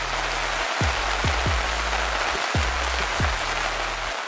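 Rain falling outdoors, a loud, steady hiss of drops on surfaces, with a few low thumps underneath.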